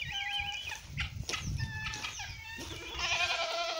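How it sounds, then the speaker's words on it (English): Two guinea fowl at an old mill, near goats, give loud, harsh, repeated calls in a noisy farmyard with overlapping cries and other livestock sounds. "there are the two guinea fowl, Alma and Gustav."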